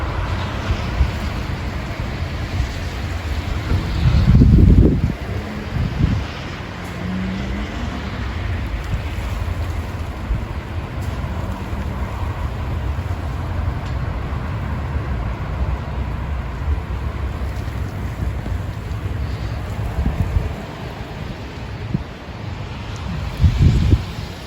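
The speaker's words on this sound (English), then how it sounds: "Ooh, I can hear those wind gusts." Strong gusty wind during a storm with thunder, sleet and hail, a constant broad roar of wind with heavy buffeting gusts hitting the microphone, the loudest near the start and again at the end.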